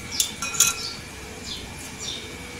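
A spoon stirs ginger juice in a small vessel, giving a few quick metallic clinks near the start, then faint scraping swirls, close and quiet.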